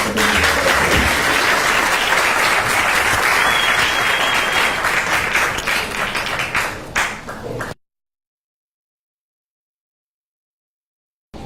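Listeners at the close of a law lecture on access to public information give sustained applause, dense and steady clapping that tapers off and then cuts to silence.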